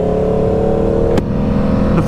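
An Aprilia RSV4 motorcycle fitted with a 520 chain and sprocket conversion, engine droning steadily under throttle on a ride, with a brief gear-change dip partway through and rising again, close and loud with wind.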